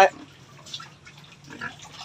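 Pigs crowded into a small 2x3 pen of ten fattening hogs, giving soft intermittent grunts and snuffles in short bursts over a quiet background, close by and fairly faint.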